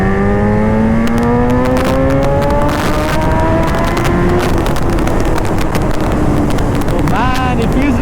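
A BMW S1000RR sport motorcycle fitted with a full Akrapovic exhaust system, its engine note rising in pitch through the gears under heavy wind buffeting, loud and close throughout with a sharp rev near the end.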